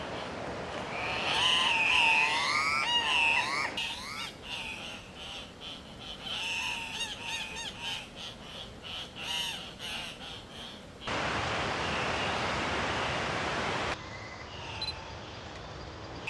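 Gallito birds call during mating season in an Antioquia village in Colombia, giving harsh, squawking cries near and loud at first. Raspier calls follow in bursts over steady background hiss.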